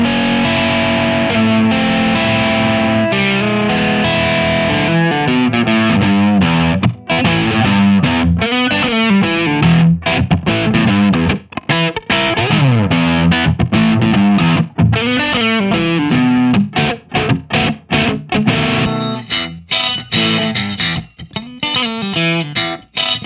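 Distorted homemade electric guitar built into the shell of a tape deck, played alone for a long stretch with dense, buzzing chords and choppy stop-start phrases near the end.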